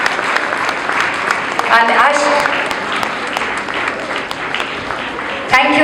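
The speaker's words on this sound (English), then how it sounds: "let's give her a huge round of applause" Audience applause at a charity fundraising event, a dense wash of clapping running steadily throughout with a voice speaking over it.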